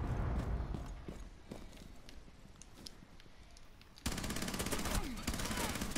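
A P90 submachine gun fires in an online shooter match: scattered single shots and short bursts at first, then a dense, rapid stream of automatic fire, heard at moderate loudness.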